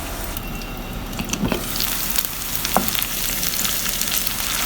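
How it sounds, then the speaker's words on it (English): Ginger garlic paste fries in a pan for a yogurt-based Bengali fish curry, a steady loud sizzle throughout with a couple of brief scraping stirs, no voices. "I'm going to leave this ginger garlic paste to cook for another 3-4 minutes till once again that raw smell goes away"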